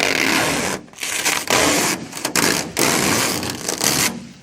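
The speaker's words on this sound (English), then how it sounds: "I'm just gonna give you guys a little bit of the satisfaction of peeling this off" Protective film peeled off a car part, heard up close as a series of loud tearing, rubbing rips broken by short pauses.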